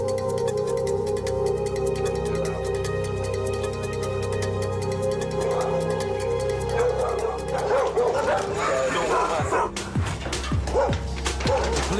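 Six dogs guarding a property in Belize bark and yip continuously while a police raid goes on, the barking layered and agitated over a steady background hum, with whimpers and a busier burst of yelps near the end.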